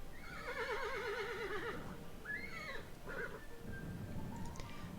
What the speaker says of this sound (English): When a horse is breeding and it's bred successfully,